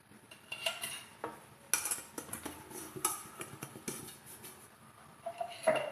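Ghee being brushed into a cake tin for papaya halwa, heard as a run of light metallic scrapes and clinks from the tin and utensil, close and fairly quiet, with no talking.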